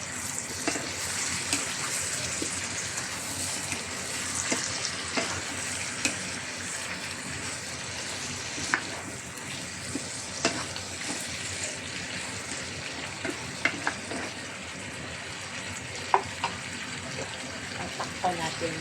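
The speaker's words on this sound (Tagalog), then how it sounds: "At isunod natin igisa ang kalabasa dahil matagal ito maluto, medyo matigas." Chunks of squash (kalabasa) sauté in a hot pan for pinakbet, with a steady sizzle and scattered clicks and scrapes from stirring throughout.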